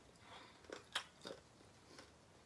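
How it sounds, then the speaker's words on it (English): A few sharp, crisp crunches from biting into battered fried chicken, close up, with quiet chewing between bites and no talking. "Did you hear the crunch?"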